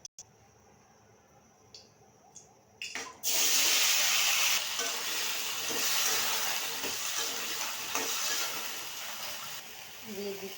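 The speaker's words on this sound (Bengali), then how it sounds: "এবার কড়াইতে ফুলকপি দিয়ে দেব ভাজার জন্য" Cauliflower and potatoes drop into hot white oil in a wok, and a loud, steady sizzle and crackle of frying follows, with faint kitchen sounds before it.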